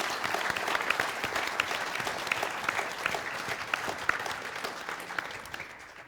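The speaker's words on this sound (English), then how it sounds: "Well, another round of applause for Ryan Studio, please" Steady applause from a crowd at a game jam event, dense clapping sustained throughout without a break, fading slightly toward the end.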